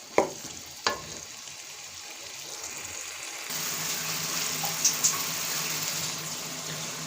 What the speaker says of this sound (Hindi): हाफ कप इसमें ऐड कर देंगे पानी का।